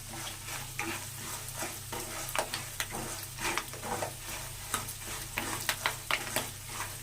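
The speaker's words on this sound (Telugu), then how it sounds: "బాగా వేగాలి. 3-4 ఎండుమిరపకాయలు వేయాలి." Three or four dried red chillies frying in oil for a tempering, a steady crackling sizzle punctuated by frequent rhythmic stirring scrapes, close and moderately quiet with a low hum underneath and no voices.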